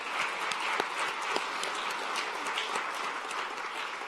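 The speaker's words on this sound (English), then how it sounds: "one last round of applause for our three" An audience at a plant-forward culinary summit applauds its three presenters, a sustained roomful of clapping with a few sharper individual claps standing out over the steady patter.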